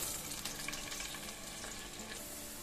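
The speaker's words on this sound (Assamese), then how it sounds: "হাইটে গোটেইখিনি আলুৱে অলপ ভাজি ল'ম, অলপ ব্ৰাউন কৰি ল'ম" Potatoes frying in oil in a frying pan over a high flame, a dense, continuous crackling sizzle that stays loud and even from start to finish, close up with no pauses.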